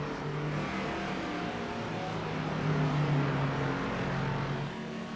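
Race car engines in a sportscar racing video game at Barcelona, a Lamborghini and a Corvette among them, a continuous loud droning roar with steady engine tones, no talk over it.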